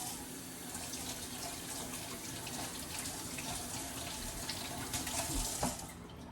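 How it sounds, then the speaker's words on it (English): Tap water runs steadily into a kitchen sink while bell peppers are rinsed under it, a soft continuous splashing with a few brief knocks near the end, with no talking. "I'm gonna bring them over and rinse them quickly."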